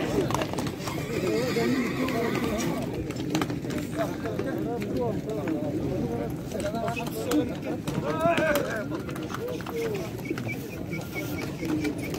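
At a busy horse market in Özgön, horses whinny and hooves clip-clop amid constant crowd noise and close speech, with pigeons cooing in the background.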